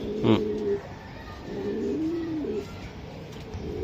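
Racing Giribaz pigeons coo in low, rolling phrases, with one louder burst early on and gentler calls after. The birds sound close over a constant low background noise, and no one talks.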